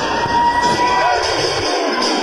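A wrestling crowd cheering during a match between Johnny Plinko and Maloiago, a dense continuous roar with shouts and a few thuds, loud and close throughout.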